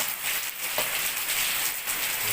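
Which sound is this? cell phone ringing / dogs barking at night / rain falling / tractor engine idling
rain falling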